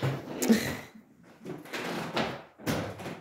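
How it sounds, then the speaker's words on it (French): A house door opened to let a cat in, with a few short knocks and rattles of the handle and wood spaced over a few seconds, heard nearby in a quiet room. "Je vais aller ouvrir la porte."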